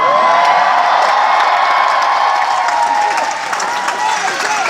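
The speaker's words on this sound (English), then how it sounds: "So I think I may move here where people all cheer." An audience at a conference cheers and applauds loudly, a dense wash of clapping and shouts that fills the room steadily throughout, heard from within the crowd.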